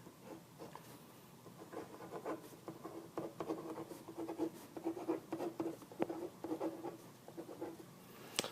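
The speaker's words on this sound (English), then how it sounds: "I'm just going to write them right here" A marker or chalk writes across a board, with faint, close scratching and tapping strokes in an irregular rhythm, quiet and without talk.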